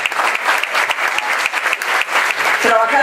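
An audience applauds members of an institution at a civic event honoring the local DIF, with dense, steady clapping filling the moment and a voice rising near the end.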